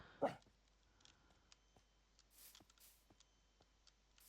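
A single sharp bark from a dog or wolf in Minecraft rings out early, followed by faint scattered clicks and ticks in an otherwise quiet background.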